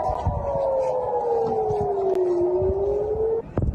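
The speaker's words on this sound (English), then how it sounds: "We've been hearing air raid sirens across Israeli cities." Air raid siren sounding across an Israeli city, a single wailing tone sliding slowly downward then holding, heard from a distance over a noisy background.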